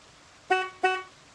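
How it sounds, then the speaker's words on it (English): Two short car horn honks from a vehicle in the video game Project Zomboid sound in quick succession, brassy and fairly close, over faint background noise. "Oh god, I thought I honked my horn and it's just you."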